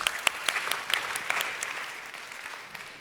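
Audience applause at a TechCrunch crypto pitch-off as a startup CEO walks on stage, a burst of sharp claps that thins and fades over a few seconds.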